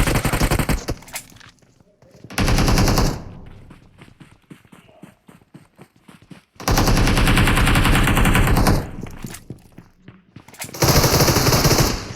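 Video-game gunfire blasts in loud bursts of rapid automatic fire, with long quieter stretches between the volleys.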